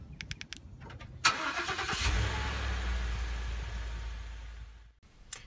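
A car engine cranks and fires up by remote start, then settles into a steady low idle for several seconds before it cuts off, with a few faint clicks around it.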